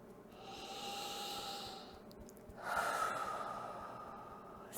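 Two slow breaths sound close to the microphone, a long audible inhale followed by a breathy exhale, each soft and hissing in a quiet room.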